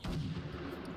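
Gunfire in a video game shooter, a brief burst of heavy booming shots, loud and close, with no talk.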